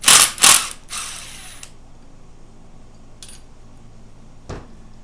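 Ratchet working a 10 mm bolt out of a Honda CB-series motorcycle engine bottom end: a few quick loud clicking bursts at the start, then quiet, with a faint rattle and a soft knock later.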